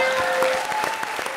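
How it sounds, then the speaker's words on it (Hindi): Studio audience on a comedy show applauds after a joke, brief close rhythmic clapping over a faint tone for just over a second. "ठोको ताली"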